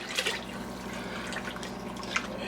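Water is poured into a pot of roux and milk for cream of celery soup, a close, continuous trickling and splashing stream with small bright drips, and no voices.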